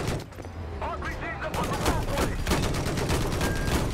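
Sustained machine gun fire in Battlefield 4, a dense rapid stream of shots that grows steadier and louder after the first second and a half, with a voice briefly heard underneath.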